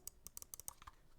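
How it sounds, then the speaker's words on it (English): Roccat Kone Pure Ultra mouse buttons clicked left and right in a quick run of about nine sharp, close, crisp clicks within a second, quiet and with no talking. "Right and left click."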